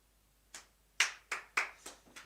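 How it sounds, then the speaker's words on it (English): Sparse live studio applause, with about six separate sharp claps spaced unevenly over two seconds, fairly faint and without any talk. "live applause"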